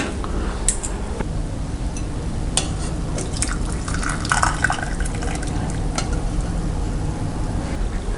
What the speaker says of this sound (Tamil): இதையும் வடித்து தனியாக எடுத்து வச்சுக்கலாம்